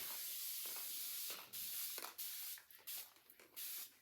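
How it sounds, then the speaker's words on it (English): A water spray bottle, the kind kept for an iron, mists fabric during framing work in a series of short, crisp hissing bursts of varying length, close and fairly quiet, with no talking. "I'm gonna take a water bottle. This is the one I use for my iron. And I am going to spray it. Just mist it."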